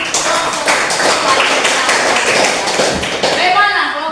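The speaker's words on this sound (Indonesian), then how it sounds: "Tepuk tangan untuk kelompok" Classroom group in Merauke clapping together, a dense, steady patter of many hands lasting about four seconds and fading slightly at the end, with faint voices mixed in.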